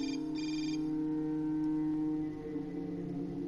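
A cell phone rings in the video game Hotline Miami 2, a steady electronic ringtone with sustained tonal bands running the whole stretch, fairly loud and alone with no talk.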